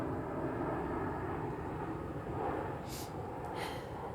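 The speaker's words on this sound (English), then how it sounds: "there's another plane above us" An airplane drones overhead, a broad, steady roar that holds for several seconds, with a couple of brief hissing sounds near the end.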